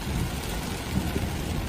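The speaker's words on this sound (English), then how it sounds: "A lot of rain on this." Heavy rain pours down during a storm chase as a dense, steady broadband roar with no distinct drops or voices.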